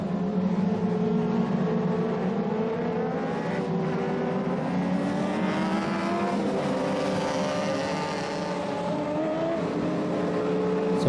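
Modified Mod Lite race cars run an A-main feature on a racing track, a loud continuous engine roar from several cars whose pitch shifts and overlaps as they circle.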